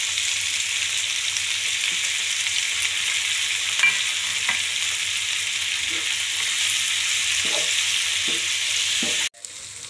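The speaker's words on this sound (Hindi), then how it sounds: "यहाँ हमारे प्याज, टमाटर और हरी मिर्ची फ्राई हो चुके हैं" Onions, tomatoes and green chillies fry in a pan for a dhaba-style paneer sabji, giving a dense, constant sizzle with a few faint stirring scrapes, close up, before an abrupt cutoff near the end.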